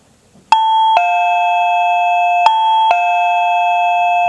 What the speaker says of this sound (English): it will actually ring the doorbell chime without the person pressing the button